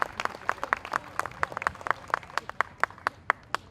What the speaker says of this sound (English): Give her a big round of applause, Taylor Thomas.